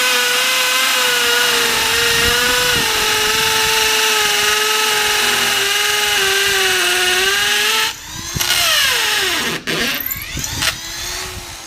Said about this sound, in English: if we were to drill over here